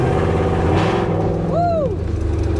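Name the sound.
Ford F100 truck with Coyote engine swap driving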